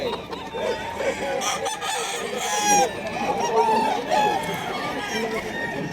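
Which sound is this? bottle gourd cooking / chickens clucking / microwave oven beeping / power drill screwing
chickens clucking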